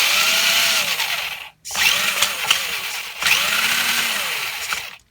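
The electric motor of a vintage Tamiya Frog RC car whines in three close, loud bursts, its pitch rising and falling as the car drives, with short pauses between runs.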